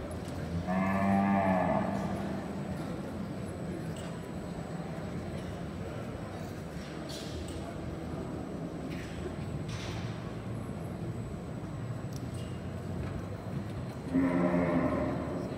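Gray Brahman cattle lowing in a national show arena: a long moo near the start and another near the end, with a quieter arena hubbub and scattered thumps in between.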